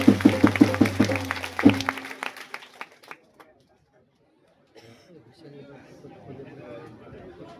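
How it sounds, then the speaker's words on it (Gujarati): An audience at a devotional gathering bursts into loud rhythmic clapping for a couple of seconds before it fades out, followed by a quiet gap and then soft murmuring chatter. "તાળી પાડો જોરથી ભાઈ"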